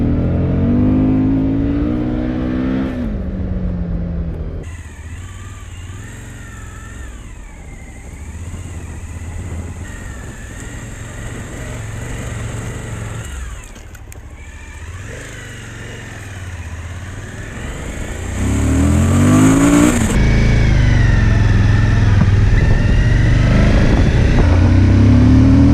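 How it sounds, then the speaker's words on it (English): A 2020 Suzuki V-Strom 1050XT adventure motorcycle rides on country highway roads, giving a steady engine drone mixed with wind rush that continues throughout and grows louder near the end. "today I'm out testing the fantastic V-STROM 1050XT version"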